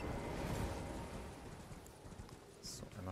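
Horse hooves in the video game Elden Ring, a rapid, steady clip-clop of a galloping mount sounding close amid other game sounds.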